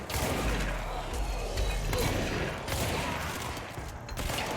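A powerful weapon fires in the video game Control, producing a loud, sustained roar of rapid shots with heavy thuds and crashes, steady and close throughout.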